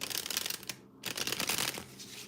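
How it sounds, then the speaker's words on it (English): A deck of cards is shuffled repeatedly in a steady, close riffling run that stops for a brief pause near the middle before starting again. "I just got to shuffle up one more deck of cards."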